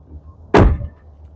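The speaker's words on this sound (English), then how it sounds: "I'll get the key and pop the trunk." A single sharp thunk as the trunk of a 1979 Chrysler New Yorker 5th Avenue pops open, close and brief, over quiet room tone.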